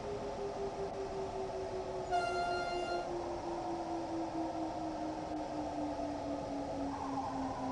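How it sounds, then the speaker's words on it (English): A passenger train in the simulator Train Sim World 2 gives a steady mechanical rumble and a slowly falling drone as it runs, with a short tonal horn-like blast partway through. "That's a train. There's a passenger service that stopped here."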